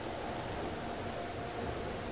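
Steady rain falling in the video game Empyrion: Galactic Survival, a constant even hiss of drops with no voices over it.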